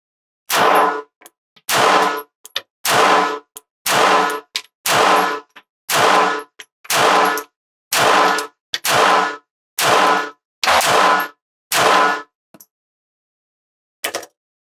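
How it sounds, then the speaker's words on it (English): About a dozen sharp, loud pistol shots from a Smith & Wesson Bodyguard 2.0 Carry Comp, fired in a steady rhythm at an outdoor target range, with a final lone shot after a short pause. "Let's do a couple 12-round magazines point shooting at the left-hand little green man out there."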